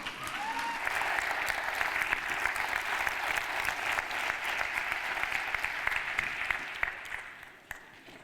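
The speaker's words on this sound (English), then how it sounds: "Please stand up and clap for Shaka Senghor." Sustained applause from a standing audience at an MLK symposium welcoming Shaka Senghor, a dense, even wash of clapping that holds for several seconds before tapering off near the end.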